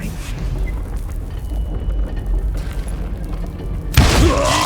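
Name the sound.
explosion in video game Call of Juarez: Gunslinger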